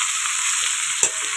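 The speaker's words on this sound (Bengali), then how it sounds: "একবারই আমি এখানে ভেজে নিচ্ছি।" Potato, pumpkin and vegetable stems fry in a small amount of oil, giving a steady, dense hiss and crackle close by, with one brief clunk partway through and no talking.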